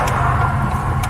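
A Ford Mustang EcoBoost four-cylinder engine hums loud and close in a brief, steady burst with no talk over it.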